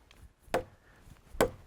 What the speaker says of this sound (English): Would you imagine taking your butcher knife out and chopping a log in two?